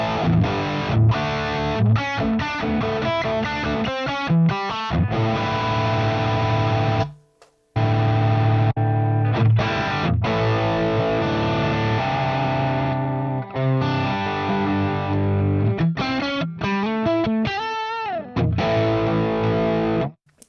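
Electric guitar through a Marshall-type amp model on a Fractal FM3, FM9 or Axe-Fx III, loud distorted riffs and sustained chords with effects, played alone with a brief pause partway.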